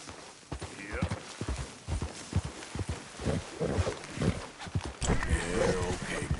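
Horse hooves clop in Red Dead 2, a run of close, uneven thuds at a walking pace that pick up toward the end, with someone talking over them.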